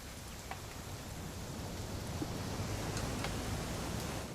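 Steady rain falling in the video game What Remains of Edith Finch, an even, continuous hiss of downpour with no voices over it.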